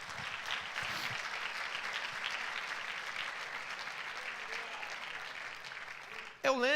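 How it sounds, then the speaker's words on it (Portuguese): A church audience at a pastors' gathering applauds continuously, a dense, even wash of clapping that holds steady before cutting off, with a voice rising briefly at the very end. "Por favor, dá um aplauso a Jesus."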